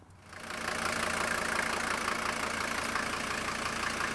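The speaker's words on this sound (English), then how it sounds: "This is the nicest running non-turbo 300D engine I've been around." A non-turbo Mercedes 300D diesel engine idles on its own, close and steady, with an even low rumble and a slight knocking clatter after a quiet first half-second.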